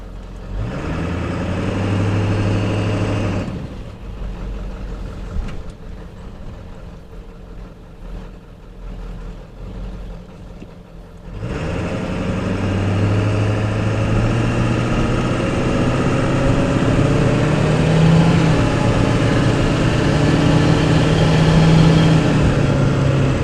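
Diesel vehicle fitted with a Magnaflow exhaust driving, a steady low engine drone heard from inside, briefly dropping away before settling into a continuous rumble as it moves.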